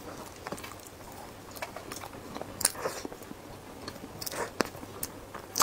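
Chewing a dense, firm European-style bread flavoured with scallion and pork floss, with close, soft crunching bites and mastication in an irregular rhythm and a few sharper crackles.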